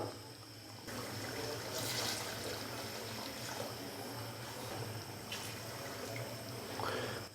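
Water pours steadily from a glass into a pot of mutton and potato gosht, a continuous splashing, gurgling stream close by with a few brief louder surges, no talking.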